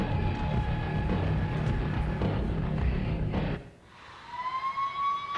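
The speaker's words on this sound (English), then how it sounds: "That police siren may as well be an ambulance siren" A wailing police siren plays at a WCW wrestling event, a steady held tone that cuts out for a moment and then rises back in, moderately loud over arena noise.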